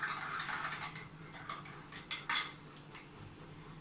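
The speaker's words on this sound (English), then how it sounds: "take 1 teaspoon of honey and you can just mix it" A spoon stirring honey into turmeric milk, with faint, quick metallic clinks and taps against the cup in a light irregular rhythm.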